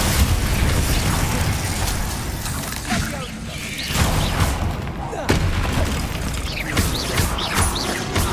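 Loud booms and crashing blasts from Bombarda and Confringo spells in the Hogwarts Legacy video game, layered over dense combat noise while a voice shouts spell incantations.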